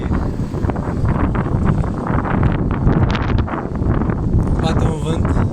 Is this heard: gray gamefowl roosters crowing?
no